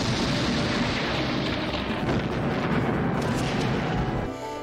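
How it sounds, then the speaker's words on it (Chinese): A car blows up in an assassination scene from a Japanese-made film about the Qing court, set at the Forbidden City: a loud, sustained roaring blast with dense rumble that holds steady for several seconds, then cuts off abruptly. "一瞬间那辆车爆炸了"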